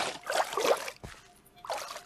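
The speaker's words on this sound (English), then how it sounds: "let's water our plants, shall we?" Watering plants in the Minecraft Farming Valley mod produces a splashy, trickling burst of water, then a pause and a second quieter pour, with no talk over it.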